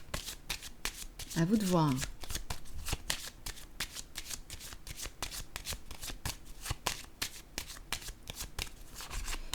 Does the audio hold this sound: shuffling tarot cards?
yes